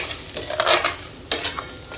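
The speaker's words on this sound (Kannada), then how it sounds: "ನೆಕ್ಸ್ಟ್ ಕೊತ್ತಂಬರಿ ಕಾಳು ಹಾಕ್ಕೊಂಡು ಫ್ರೈ ಮಾಡ್ಕೊಂಡು" Coriander seeds fry in a pan with curry leaves, making a crackling sizzle while a spatula stirs and scrapes against the metal, with a sharper scrape partway through.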